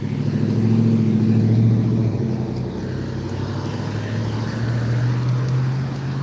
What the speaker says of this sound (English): We had a little traffic, y'all.